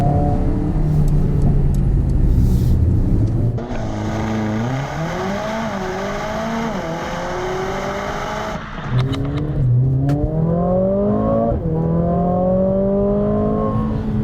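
A 2020 Mercedes CLA45 AMG engine revs hard under full acceleration, loud and close, its pitch climbing through each gear with quick dual-clutch shifts breaking the rise at several points.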